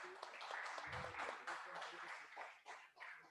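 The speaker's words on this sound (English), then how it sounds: "Sir, please give them a round of applause." Audience applause for the chairpersons at the closing of the MASTACON 2020 conference, a steady, dense patter of clapping that fills the hall throughout, with a voice mixed in.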